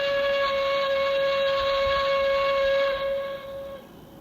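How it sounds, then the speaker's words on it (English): A weird train whistle sounds near a water tower at a railway station. It is a loud, sustained steady tone that holds for about three seconds, then fades out alone. "they hear a weird whistle."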